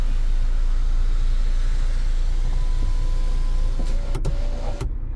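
Electric sunroof motor of a 2018 MINI Countryman Cooper S whirring steadily as the roof vents and slides open, a continuous close mechanical hum inside the cabin that ends with a couple of clicks.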